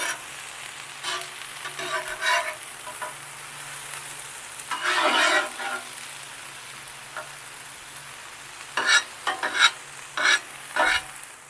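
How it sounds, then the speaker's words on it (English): Smash burgers fry on a griddle with a steady, close crackling sizzle, broken by bursts of scraping and spatula clatter that come louder toward the end. "I'm going to be throwing those smash burgers on."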